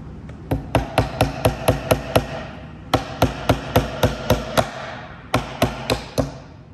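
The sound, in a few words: tapping keepsake box side piece into place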